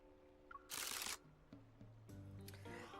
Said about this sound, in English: Why are these shutter sounds getting more chaotic?